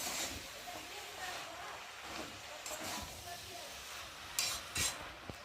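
Spinach being stirred as it fries in a pan with a spatula scraping and clinking against the metal over a steady low sizzle, with a few sharper utensil knocks near the end.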